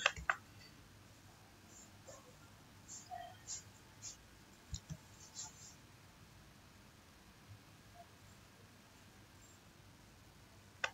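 Several sharp, quiet computer mouse clicks scattered across a low background hiss, some in quick pairs, while navigating foundation design software.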